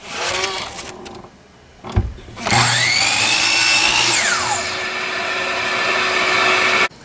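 A power saw starts up and whines steadily through a cut in a pen blank for several seconds, its pitch sagging under load, then shuts off abruptly.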